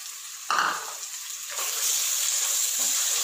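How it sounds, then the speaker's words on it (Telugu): Ginger-garlic paste hits hot oil with fried onions and green chillies for bagara rice, giving a sudden loud sizzle. The sizzle settles into a steady bright hiss that grows fuller as the frying continues, with no voices. "ఇది కూడా మనకు పచ్చివాసన పోయేంత వరకు బాగా వేపుకోవాలి"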